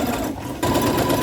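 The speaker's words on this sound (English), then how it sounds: "now I just need to overlap it by a little bit and sew it shut" A sewing machine stitches overlapped elastic band shut, its motor whirring close and steady, with a brief dip in the middle before it runs again at speed.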